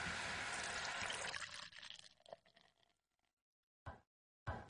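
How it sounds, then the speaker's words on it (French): White wine pours over tripoux in a pot, a steady close splashing pour that tapers off after about three seconds, followed by silence and two brief knocks. "et on recouvre de vin blanc"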